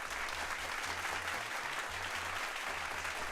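A round of applause from an audience at a casual hangout, steady dense clapping throughout with a low hum underneath.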